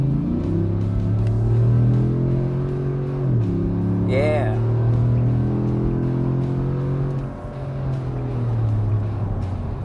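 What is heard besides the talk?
Chevy Silverado 6.2L with SLP cat-back exhaust revving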